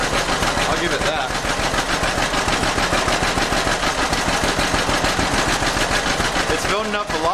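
A 1947 John Deere B two-cylinder tractor engine runs smoothly at a steady idle, its loud, even chugging pulses repeating fast and close throughout.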